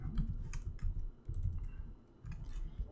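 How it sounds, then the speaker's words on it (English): Typing on a computer keyboard while writing Arduino code: bursts of rapid, close key clicks with short pauses between runs, fairly quiet and with no talking. "I'm really bad at typing."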